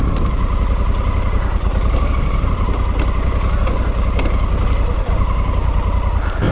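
An Africa Twin adventure motorcycle rides through woodland, its engine a steady, loud, continuous drone with a constant rumble and wind noise, no gaps or talk.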